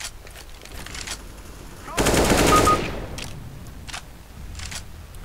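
Automatic gunfire in CS:GO erupts as a loud, dense burst around the middle, sitting over steady game ambience, with a couple of faint shots before and after; a headshot may be among the hits.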